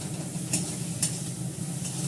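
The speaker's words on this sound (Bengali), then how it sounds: "সাদা তেল আর ঘি দিয়ে পেঁয়াজ ছাড়লাম" Onion with onion paste and ginger paste frying in white oil and ghee, a dense continuous sizzle with brief stirring scrapes at intervals.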